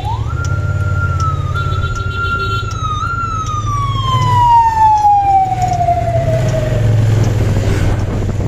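A loud emergency vehicle siren wails in a long falling sweep as it passes on the road. A steady engine drone runs underneath.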